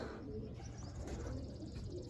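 Pigeons in a loft coo softly amid a constant low murmur, faint and steady throughout, with an occasional flutter of wings.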